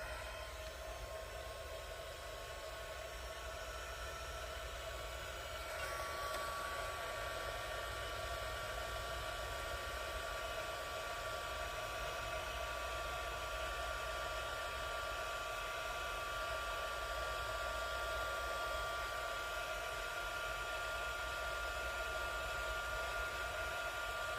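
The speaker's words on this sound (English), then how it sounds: "I wonder if I use my heat gun if it would flatten it out." Steady, even whoosh of a heat gun blowing on a resin sticker, a continuous airy roar with a faint motor whine that holds constant for the whole stretch, recorded close and at low level.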